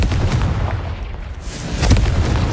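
A fire-blast spell cast in a video game, a loud booming burst of explosive impacts with rumbling low-end blasts and crackling debris, two heavy hits close together within a couple of seconds.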